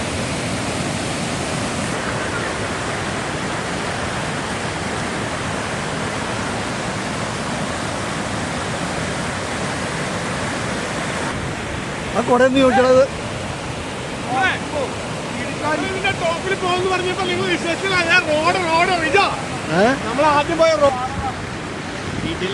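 Cheeyappara waterfall near Munnar, Kerala roars as a constant dense rush of falling water in the rain, loud and close throughout, with people talking over it in the later part.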